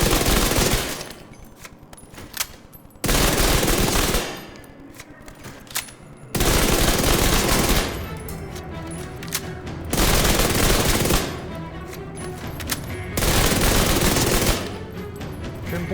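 Dark Winter submachine gun from Division 2 firing in repeated long automatic bursts, about five loud sustained volleys separated by short pauses, with no talking.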